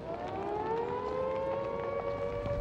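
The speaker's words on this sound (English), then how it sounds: "You may hear a siren rising and falling in pitch, or hooters sounding short blasts." A wartime air raid civil defense siren wails steadily in the World War II Blitz over Britain's Midlands, its loud tone gliding up and down in pitch, continuous and alone with no voices.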